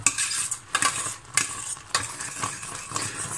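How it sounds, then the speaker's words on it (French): A utensil stirs cooking caramel in a pan, with repeated scraping strokes around the sides and a soft sizzle underneath, close and rhythmic with no talking. "Je mélange surtout pour prendre un petit peu sur les bords."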